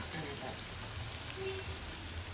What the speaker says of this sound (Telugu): ఫ్రై కూడా అయిపోతుంది ఫ్రై అవుతుంది